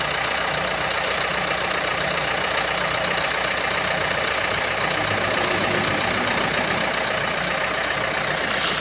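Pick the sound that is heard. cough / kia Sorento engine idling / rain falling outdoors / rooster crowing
kia Sorento engine idling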